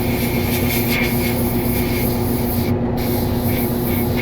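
Airbrush spraying paint onto a 1/5 scale figure prototype, a steady loud continuous hiss of compressed air that barely changes, close up and without speech.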